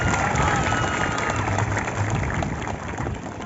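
Audience at a World Indigenous People's Day 2021 celebration gives a steady round of applause, dense and fairly loud, with crowd murmur and some voices mixed in throughout.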